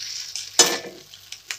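Boiled chowmein noodles being tossed in a kadai (wok) over high heat with a spaghetti spoon, a few brief scraping clatters and soft sizzle, with one louder clank near the middle.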